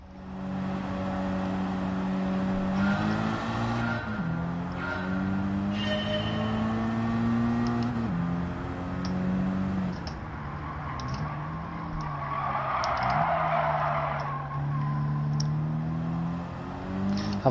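Race car engine in Gran Turismo 7, droning and rising and falling through gear shifts with brief tire squeal, loud and continuous throughout with no talk.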